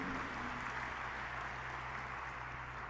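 An audience at the Maheshwari Global Expo convention in Jodhpur applauds during a speech. The applause is a steady, dense wash of clapping that holds at an even level throughout, from a large crowd heard at some distance.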